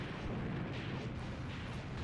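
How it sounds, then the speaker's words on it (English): Soviet 76mm tank cannons firing high explosives and distant explosions in Graviteam Tactics: Mius Front, a dense, continuous rumble of booms and blasts with no voices. "The 76mm cannons unleashing high explosives."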